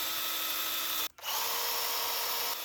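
Makita cordless pruning chainsaws, 40-volt and 18-volt models with an 8 m/s chain speed, whine steadily while cutting, a loud continuous buzz broken by one brief drop to near silence midway.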